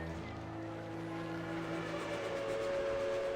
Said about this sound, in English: A thick, black column of smoke cuts the dusty sky, rising along with a loud whistle. It's the train!